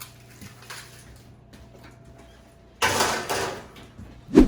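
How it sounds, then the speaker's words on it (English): An oven door swings open with a broad hollow whoosh and rattle, then slams shut with a sharp thump, in a quiet home kitchen while shortbread crust bakes. "I'm going to put this in the oven"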